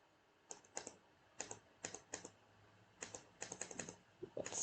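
Keystrokes on a computer keyboard while coding a Python quiz, quick clicky taps in short clusters with brief gaps, close and fairly soft.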